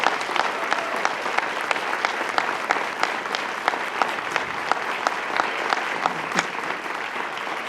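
Audience applause at a Yukon High School spring concert, a steady dense clapping from a large crowd that fills the hall throughout, with sharper individual claps standing out here and there.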